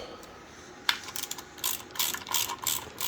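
A ratchet clicks in quick bursts while screws are loosened during the teardown of a Mercury 240 EFI outboard motor, with close, sharp metallic ratcheting and short pauses between runs.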